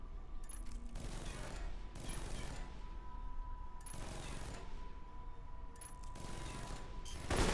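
Gunfire in the stealth action game Alpha Protocol, fired at a wall, comes as several separate bursts spaced about a second apart, moderately loud over a quiet steady background hum.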